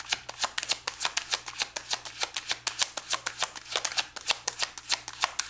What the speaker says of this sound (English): I have my eyes closed right now as I'm shuffling